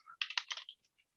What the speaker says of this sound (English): I'm going to spell deployment right because, well, I'm typing.